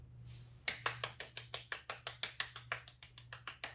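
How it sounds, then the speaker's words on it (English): Quick, even handclaps at a graduation ceremony for the School of Art and Design, sharp and close with a steady rhythm after a brief quiet start, over a low hum. "a round of applause"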